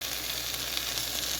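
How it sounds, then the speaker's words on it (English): Onion fries in a pan over low to medium heat for kanda poha, a steady close hiss and sizzle throughout without talk. "you can fry it till it becomes a little bit transparent on a medium heat"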